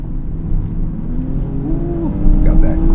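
A 2025 Lexus ES 350 F Sport engine pulling under acceleration, a steady low drone that rises in pitch and grows louder toward the end, heard from inside the car.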